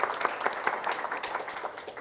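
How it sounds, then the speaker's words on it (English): Brief audience applause at a parenting talk, a dense steady patter of clapping hands at moderate level, with no one speaking over it. "I want to give them a big applause."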